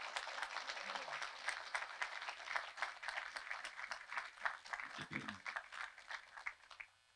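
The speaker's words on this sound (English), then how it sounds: "I would say that that deserves a round of applause for our appreciation." Audience applause at a Veterans Day ceremony honoring medal recipients: steady, dense clapping from a crowd that holds at an even level for several seconds before tapering off at the end.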